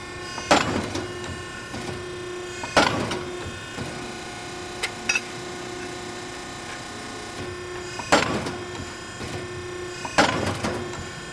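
A Piranha ironworker machine punches holes in steel plate, each stroke a loud, sharp clank followed by a ringing decay, heard four times at uneven gaps over a steady motor hum, with a couple of lighter ticks between strokes and no talk.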